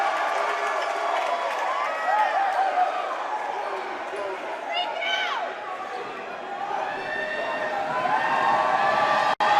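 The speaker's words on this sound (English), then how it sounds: "Crowd gets loud after he missed the first, but Williams responds to put it down." Basketball game crowd growing loud after a missed free throw, a sustained mass of voices and shouts with whistles and cheers rising and falling, heard under a commentator's voice.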